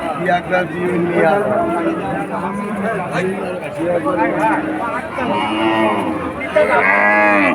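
Cattle low and moo repeatedly at a busy cow market in Kalaroa, their calls mixed with crowd chatter and nearby voices throughout.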